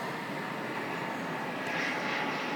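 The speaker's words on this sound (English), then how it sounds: "Gotta let the plane pass." Fixed-wing airplane passing overhead outdoors, a steady broad engine roar that swells slightly toward the end, moderately loud with no talking.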